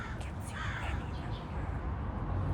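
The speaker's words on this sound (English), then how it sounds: "Did you hear that crow?" A crow caws several times against a steady, noisy outdoor background, fairly loud and close.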